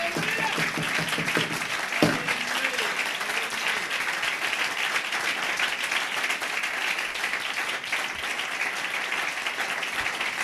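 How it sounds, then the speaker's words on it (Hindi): Church congregation applauding loudly at a worship service, a dense sustained wash of clapping from a large crowd lasting the whole stretch, with a few brief shouts near the start. "यीशु मसीह के लिए जोरदार तालियां"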